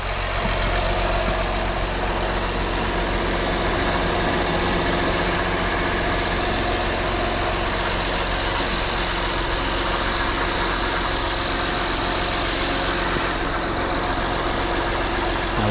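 2012 Honda Accord engine idling, a steady close hum with low rumble and no change in speed throughout.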